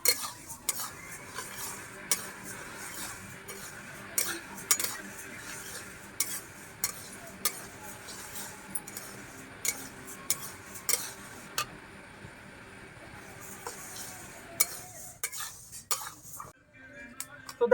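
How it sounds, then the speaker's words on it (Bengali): Moong dal is stirred and dry-fried in a pan at home, with a utensil scraping and clinking against the metal in repeated sharp knocks over a soft background hiss; brief quiet speech occurs near the end. "প্রথমে মুগ ডালটা ভেজে নেবো।"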